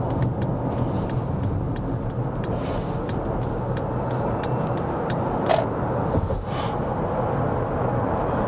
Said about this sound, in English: Now let's go and test the motorway driving